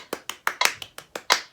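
Hands clap a steady rhythm, eight crisp close claps about a fifth of a second apart, with a few slightly louder accents and no talking.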